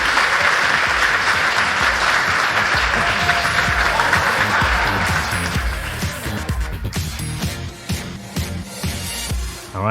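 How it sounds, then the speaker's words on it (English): A crowd gives loud, sustained applause for Russell Okung after his talk on Bitcoin. The dense clapping stays strong for several seconds, then thins out and trails off with a few scattered claps. "just a round of applause for Russell"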